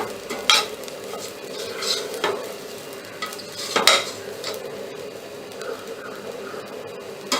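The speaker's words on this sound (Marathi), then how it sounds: "नारळ सुद्धा परतून घेऊया" Grated coconut is sautéed in a pan for a sweet coconut rice dish, with a soft sizzle under repeated scraping strokes of a spoon that come in a few sharper bursts.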